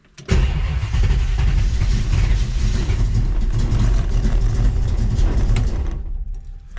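A car engine on a fuel-injected setup cranks and catches almost at once, then runs at a loud, steady idle close by for several seconds before cutting off abruptly.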